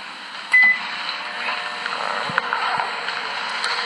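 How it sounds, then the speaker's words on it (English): A running microwave oven gives off a steady electrical hum with a bright high whine, continuous across the whole stretch. A brief click or beep comes near the start and a couple of faint low knocks follow. No voices are heard. "because that microwave is on"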